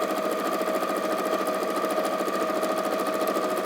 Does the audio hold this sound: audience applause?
no